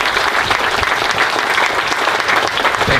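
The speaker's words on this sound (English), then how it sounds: "Please join me in a round of applause for everyone in front of you." A crowd at a Marine Corps change-of-command ceremony at Beaufort Air Station claps in a dense, loud, sustained round of applause without pause.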